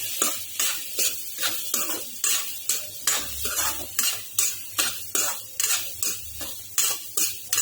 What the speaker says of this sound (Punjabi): ਹੁਣ ਆਪਾਂ ਆਲੂਆਂ ਨੂੰ ਮਿਕਸ ਕਰ ਲਵਾਂਗੇ